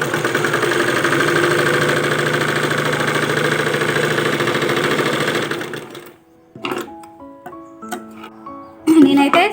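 A sewing machine stitching a saree lining, a loud continuous mechanical whir for about six seconds, then stopping, followed by brief clicks and handling noises.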